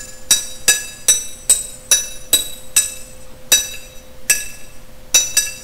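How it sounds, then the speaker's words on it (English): Heavy hammer blows ring out inside the Five Nights at Freddy's game, about a dozen sharp metallic clanks spaced at a steady, slightly uneven pace, each with a bright ringing tail over a quiet hum. "Are they hammering to open this place?"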